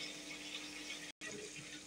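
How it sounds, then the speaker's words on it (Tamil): Water swirled in a grinder jar to rinse it, then poured into tamarind curry, a faint, continuous splashing and pouring, briefly cut by a short gap. "இதை கொஞ்சம் நல்லா தண்ணி விட்டு அலசி ஊற்றிக்கலாம்."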